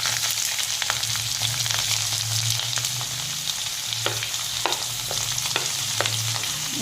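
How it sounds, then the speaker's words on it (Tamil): Onions and curry leaves fry in hot oil in a kadai, giving a loud, steady sizzle that runs unbroken throughout, with a few sharp crackles and spatters popping out near the end. "இப்போ ஒரு கடாயில் ஆயில் சூடு பண்ணி அதில் வெங்காயம் கருவேப்பிலை போட்டுக்கலாம்."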